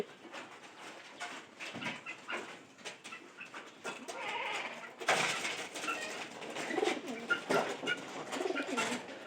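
A loft of pigeons kept indoors coos and rustles in overlapping, uneven bursts, with a farmyard bleat mixed into the busy, moderately loud background.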